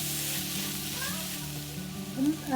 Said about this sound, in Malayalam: ഇനി ഇതിലേക്ക് നമുക്ക് തക്കാളി ആഡ് ചെയ്യാം. നല്ലപോലെ ഒന്ന് മിക്സ് ചെയ്ത് കൊടുക്കുക.